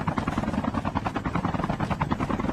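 A video game helicopter's rotor beats in a fast, even thumping pulse, loud and close, with no talk over it.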